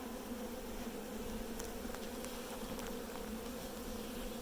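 A dense, steady swarm of honeybees drones around an opened hive, an even buzzing hum with no voices over it.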